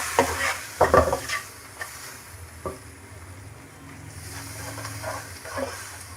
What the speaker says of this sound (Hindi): इसमें थोड़ा थोड़ा करके दूध ऐड करेंगे